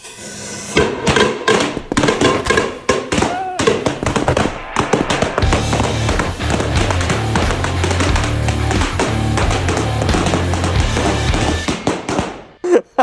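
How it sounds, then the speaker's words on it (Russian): Firecrackers going off inside a cooking pot in an apartment, a rapid loud string of sharp bangs and crackles that runs continuously for about twelve seconds before stopping with a couple of final pops. "что у нас по шуму происходит от петард"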